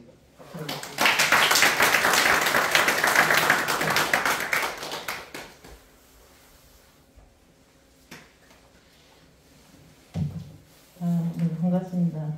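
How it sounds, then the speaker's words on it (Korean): An audience claps to welcome a speaker to the stage, a broad burst of applause for roughly five seconds that fades away before a voice begins talking. "그런 마음에서 큰 박수로 모시겠습니다."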